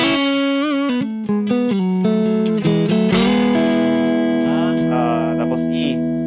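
Electric guitar on a single-coil neck pickup plays a melodic lick with bends and double stops, ringing out with sustain through effects, loud and clear with no talking.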